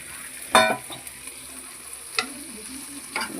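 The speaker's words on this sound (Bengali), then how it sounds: "ডিমের ভুজিয়া এইটা দিয়ে ভালো করে আমি একটু মিশিয়ে নেব।" Fried egg bhujia is stirred into a cooked patty filling in a pan, with a few sharp spatula scrapes and clinks over a low, steady sizzle.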